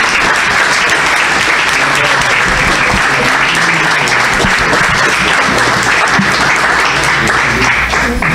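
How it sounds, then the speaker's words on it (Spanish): Loud, dense applause from an assembled audience honouring a late doctor, continuous clapping filling the room at an even level throughout. "Pido un aplauso para la memoria del doctor Juan."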